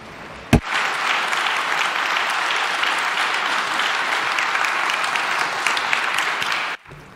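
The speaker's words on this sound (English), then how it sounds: "applause for the participants" A conference audience at re:publica 2018 applauds the participants of a panel on digital identity. The applause is a dense, steady wash lasting around six seconds, with one sharp knock near the start, and it cuts off abruptly.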